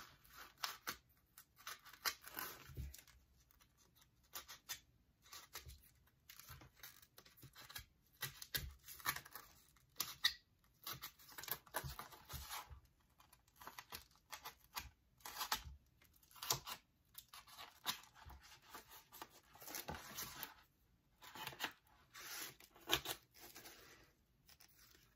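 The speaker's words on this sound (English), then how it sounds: "I am just going to poke little holes where my holes already are." Paper is poked with small holes for Dollar Tree Valentine's decor, making a long run of irregular crisp punctures and crinkles at close range. The sounds are faint and come one after another with no talking.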